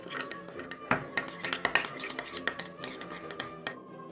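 Parsley being mixed into a garlic butter spread for baguette in a bowl, with repeated clinks and scrapes of a utensil against the bowl in an uneven stirring rhythm, close and moderately loud.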